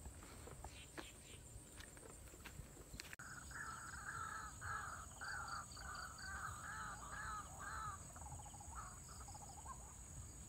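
A black magpie calls repeatedly in a chattering series of harsh notes, moderately distant, over steady insect and cricket buzz with faint rustling.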